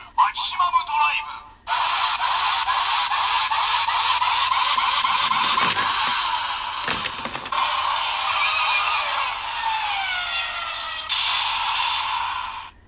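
DX Accel Driver transformation belt toy sounding its Trial Maximum Drive finisher: a short electronic burst, then a long, loud, buzzy synthesized effect with rising tones and a couple of sharp clicks, played close up.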